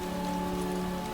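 Steady rain falling on a surface, a continuous dense patter with a faint even hum underneath, loud and close with no voices.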